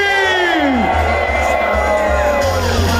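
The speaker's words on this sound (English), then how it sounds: "I want to hear the biggest cheer of the day." A large group of participants cheers loudly at the Two Oceans 2024 event, with shouts, whoops and rising, falling yells merging into a continuous roar.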